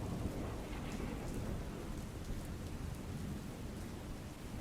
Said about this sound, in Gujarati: ભારે વરસાદથી રાજ્યમાં 10 નદીઓ ગાંડીતુર બની અને વહેતી જોવા મળી છે